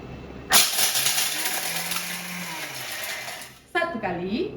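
A high-powered blender with a German motor whirs loudly on turbo mode while crushing sugar, starting abruptly, running about three seconds and then stopping. A voice follows the blender.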